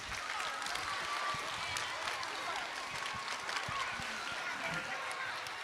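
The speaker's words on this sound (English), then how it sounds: "Now let's give them a round of applause." Audience applause at an elementary school end-of-year awards ceremony, a continuous dense patter of many hands clapping at a moderate, even level with some scattered louder claps, with voices mixed in beneath.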